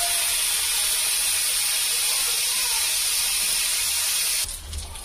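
Onion frying in a small amount of oil in a wok, a loud steady sizzle and hiss that holds throughout and drops slightly at the very end.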